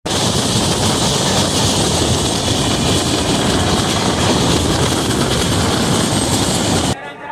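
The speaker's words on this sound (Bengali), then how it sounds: "এই মুহূর্তে আমাদের ট্রেন এসে দাঁড়ালো খুর্দা রোডে" Dense, steady roar of a long-distance express train, the 22504 Dibrugarh–Kanyakumari Vivek Express, pulling into Khurda Road station in India, loud and close throughout before dropping away at the very end.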